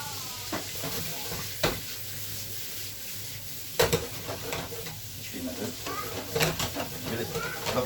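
Shallots and veal kidney fry in olive oil and butter, a steady close sizzle broken by occasional scraping stirs and clinks of a utensil against the pan.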